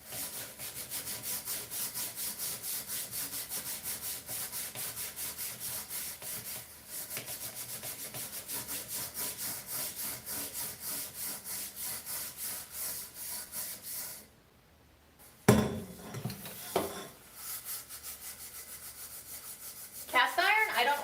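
A frying pot used for deep-frying donuts in vegetable oil is scrubbed with dish soap and baking soda: steady, rhythmic close-up rubbing that stops briefly near the end, then resumes with a few knocks.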